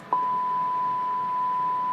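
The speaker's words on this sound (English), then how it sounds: "you can hear there's our 100 hertz tone" Steady test tone from a signal generator feeding a simplex repeater setup, a pure, continuous beep that starts abruptly and holds unchanged over a faint hiss, with no voices.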